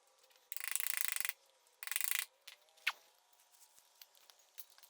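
Ratchet wrench backing out a bolt on a classic Willys Jeep during a brake line installation, two bursts of rapid clicking followed by a sharp metallic clink and a few faint taps, close and fairly quiet.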